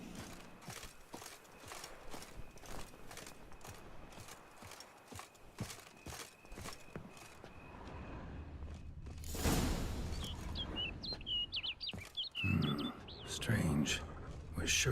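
Bird calls in The Witcher 3: Blood and Wine, a short burst of chirps and trills near the end, following horse hooves clip-clopping and footsteps, with game voices talking nearby.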